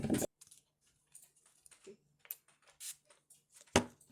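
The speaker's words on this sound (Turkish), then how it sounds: "Arkada klavyesi benim değil." Computer keyboard keys click sparsely in the background indoors, with scattered faint taps and a couple of louder strikes.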